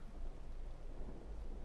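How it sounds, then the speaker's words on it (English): Steady rain with a low thunder rumble in a modded Ark survival game, a dense broadband wash with a deep continuous roll underneath, fairly quiet and with no voices. "And rain again. I feel like nothing but rain is going on."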